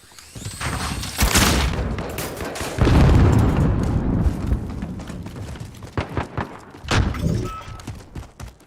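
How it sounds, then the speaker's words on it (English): A loud blast goes off in a combat video game and is followed by a rumbling tail, then scattered thumps and shots. Sparse radio-style voice callouts can be heard. "Grenade out!"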